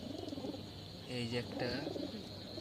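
Pigeons in a row of coops cooing softly at night while being fed, a few low coos rising briefly under a man's nearby speech.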